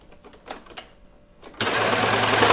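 Sewing machine stitching the side seam of a sweater: a few soft handling taps, then the motor kicks in with a loud, steady whirring hum that runs close up to the end.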